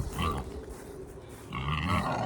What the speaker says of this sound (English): we're going to have a wander over and see the very noisy pigs.